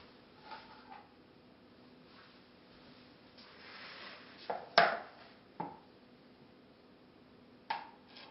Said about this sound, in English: now you're ready to cut up 1 stick of butter